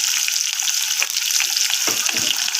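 Ginger, turmeric and curry leaves fry in hot oil for a goat head curry, giving a loud, steady sizzle close by with occasional stirring scrapes.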